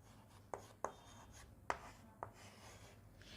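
A pen writing on paper in a board copy, with faint scratching strokes and four sharper taps spaced irregularly, very quiet and close with no talk.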